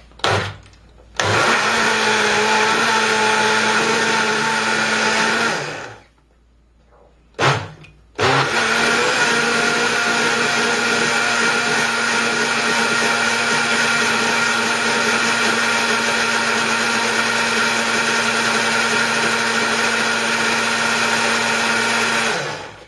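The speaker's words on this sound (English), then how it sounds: "You can actually see it blend." A kitchen blender whirs loudly through tomato and garlic for a vegetable shake, running in a steady high-pitched roar, stopping briefly for a couple of seconds and then restarting for a long, unbroken spell.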